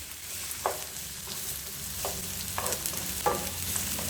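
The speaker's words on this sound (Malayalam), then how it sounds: "അപ്പോൾ നമ്മൾ സ്ലൈസ് ചെയ്ത സവോളയും കാന്താരി മുളകും വെളുത്തുള്ളിയും കറിവേപ്പിലയും കൂടി ഇട്ടിട്ട് അതിനെ നന്നായിട്ട് ഒന്ന് മൊരിയിച്ചെടുക്കാം." Sliced onions, chillies, garlic and curry leaves fry in coconut oil with a steady soft sizzle, broken by several brief scraping stirs in the pan.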